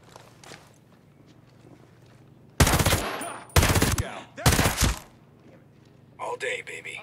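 Gunfire in the Ghost Recon Breakpoint video game: three loud, close bursts of automatic fire in quick succession, then a rapid crackle of shots, with quiet footsteps and faint talk between.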